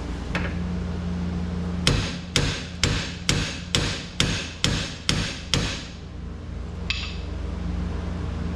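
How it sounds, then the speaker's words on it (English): A run of roughly nine evenly spaced hammer strikes on a 1933 three-window coupe drop axle, loud and ringing, with a steady background drone before and after. "Sometimes you just need a bigger hammer."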